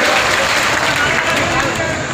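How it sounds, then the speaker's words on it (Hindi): A dense crowd applauds at a by-election campaign rally in Sanchi, producing a continuous wash of clapping, loud and steady, with a voice speaking over it. "दोनों हाथों को उठा के ताली बजा के"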